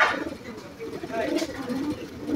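An Indian high flyer red-vein pigeon gives low cooing calls under nearby talking, with a steady room murmur throughout.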